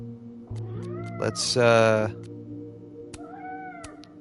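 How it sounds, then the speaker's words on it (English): A cat meows in the video game Life Is Strange: Double Exposure, one drawn-out, close meow with a couple of softer calls after it, while a person talks over the game sounds. "We gotta save the kitty, chat."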